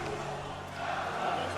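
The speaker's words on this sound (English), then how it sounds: "you can see the crowd is losing it right now" A crowd at an esports fighting-game tournament, the Granblue Fantasy Versus Rising top 8 at UMAD 2026, roars with a steady, dense wall of cheering, while a commentator talks over it.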